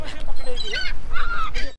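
Birds call at Okha port as grain is tossed into the air and over the water for them to catch: several loud, close honking cries, one after another.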